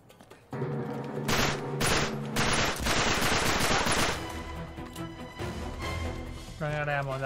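Rapid automatic gunfire in Uncharted 3, with bursts of machine-gun fire ringing out loud amid game music and sound effects, broken by short pauses.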